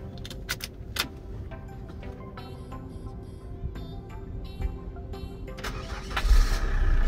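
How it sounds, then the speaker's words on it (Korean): A Winstorm 4WD seven-seat LTX SUV with about 145,000 km is started with its dial-type ignition; the engine cranks and catches promptly, then settles into a steady running rumble with a brief louder rev near the end. "시동 한번 걸어 보도록 하겠습니다"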